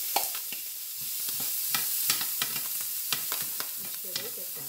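Onions and peppers sizzle in olive oil in a pan for a Cuban picadillo, a steady frying hiss with repeated sharp stirring clicks and scrapes, close and fairly quiet, with no talking.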